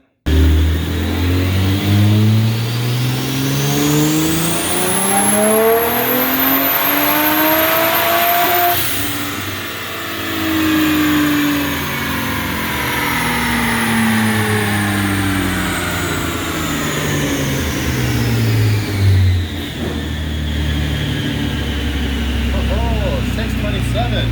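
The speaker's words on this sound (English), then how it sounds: "So here's that dyno pull" A BMW B58 engine on a dyno makes a full-throttle pull, winding up steadily through the revs to a sharp peak, then dropping back and holding at a loud idle and mid-rev drone.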